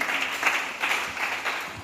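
A church congregation applauding, a steady wash of many hands clapping at medium distance, sustained and even for a couple of seconds.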